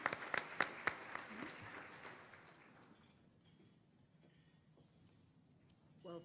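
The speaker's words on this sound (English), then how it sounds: "Let's give them a round of applause as well." Banquet audience applauding, with a few sharp claps and a brief burst of clapping at the start that quickly thins out and fades into quiet room murmur.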